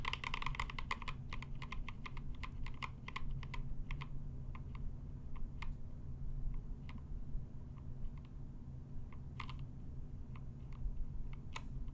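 NovelKeys Silk and Dry linear mechanical keyboard switches, factory lubed, being pressed over and over, producing a steady run of irregular, close, crisp keystroke clacks and thocks with no talking.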